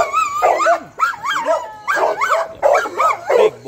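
A large XL bully dog barks and whimpers close by in several short bursts of yips and whines, separated by brief pauses, loud and alone.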